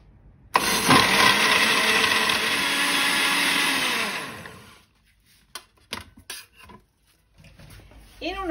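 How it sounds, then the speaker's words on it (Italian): A blender whirs loudly for about four seconds blending almonds and milk, its pitch settling as it grinds, then winds down; a few clinks and knocks follow. "E frulliamo il tutto."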